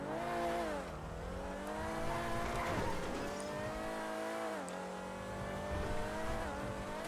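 A car engine in Grand Theft Auto Online revs up and down through the gears, a close and steady motor drone with pitch swells and faint tire noise, and no talking.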